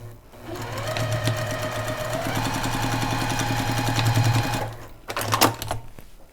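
A sewing machine runs a quarter-inch seam on a Snail's Trail quilt block, a steady close whirring stitch rhythm for about four seconds that then stops, followed by brief fabric handling noises.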